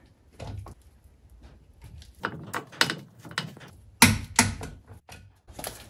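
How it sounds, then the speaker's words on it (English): A torque wrench with a small extension tightens a nut on a Mercruiser Alpha One outdrive being fitted to a boat, giving scattered sharp mechanical clicks and clacks at close range, with a few louder snaps near the end. "I added a very small extension to the torque wrench."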